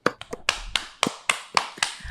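Someone claps their hands sharply about ten times in a slightly uneven rhythm, close and clear with no talk, copying another person's clapping style.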